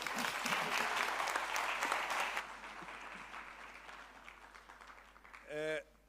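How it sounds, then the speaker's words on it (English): Audience applause after a presentation at a future-of-work dialogue session, steady for about two seconds and then tapering off, ending with a brief tonal sound. "Can we please give him another round of applause"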